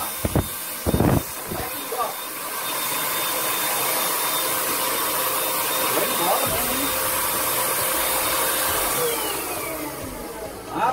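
A Gamma 500W electric paint spray gun with a 700 ml cup starts after a few brief knocks and handling clatter, then runs as a loud, steady motorized whir and hiss for several seconds before cutting off near the end.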